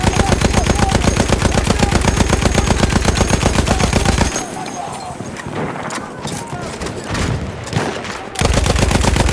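A Lewis machine gun fires in a video game battle on the Volga river, giving a loud, rapid, evenly spaced burst. A pause of quieter noise follows, then the sustained stream of shots resumes.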